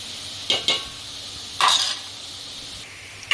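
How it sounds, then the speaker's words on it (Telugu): Carrots frying in a pan with a soft continuous sizzle, broken by a few short scraping and clinking strokes of a stirring utensil against the pan, close and moderately loud. "క్యారెట్ ఫ్రై అయినాయి చూడండి"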